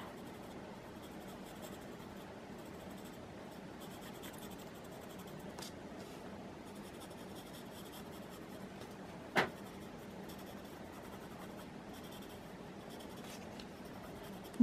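A graphite pencil scratches softly and steadily across paper for the whole stretch, faint and close, with one brief sharper tap partway through and no talking.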